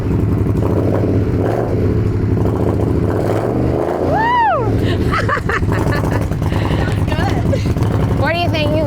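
Custom Indian Scout motorcycle engine firing up and revving, loud and continuous with rising and falling rev sweeps, while people cheer and talk over it.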